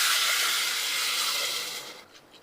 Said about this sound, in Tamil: அதுக்கு ரெண்டு டம்ளர் தண்ணி ஊத்திக்கலாம்